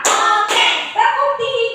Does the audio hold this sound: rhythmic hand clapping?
yes